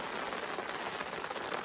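Light rain falling at a canoe campsite during a Boundary Waters trip, a steady soft hiss of drops pattering on surfaces, continuous and even with no talk.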